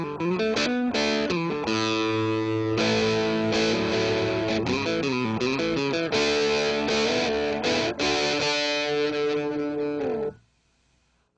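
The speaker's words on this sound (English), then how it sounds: "it gives you this really warm, I'm not going to say overdrive, but kind of a distortion thing that brings out the natural sound of the guitar" An electric guitar played through an Electro Harmonix Metal Muff distortion pedal rings out in loud, heavily distorted chords and riffs, ending abruptly with a short decay into near silence.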